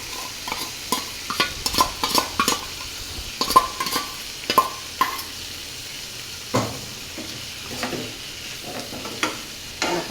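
A ground garam masala paste is added to a pan and stirred, giving a soft sizzle under repeated scraping and clinking strokes of a spoon against the pan, close and fairly quiet, no voices.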